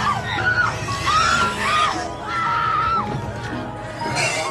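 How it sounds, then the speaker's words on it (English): A girl screams in terror in a dark room, several high, drawn-out shrieks rising and falling over a rumbling, busy background. "as soon as she entered, she screamed in terror."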